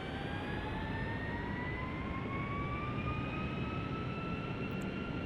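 Boeing 757-300 jet engines spooling up to takeoff thrust in Flight Simulator X, a loud continuous roar with rising whining tones that climb steadily in pitch throughout.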